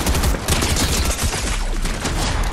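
Dense, loud gunfire from a video game rattles in rapid continuous bursts, close up and unbroken across the short stretch, with no voices.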